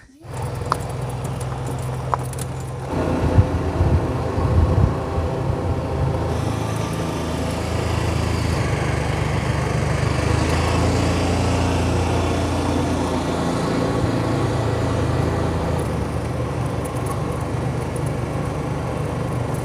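UTV engine droning steadily nearby while dragging a ripping implement through dirt, with rough rattling and scraping over the first several seconds and a continuous mid-level rumble throughout.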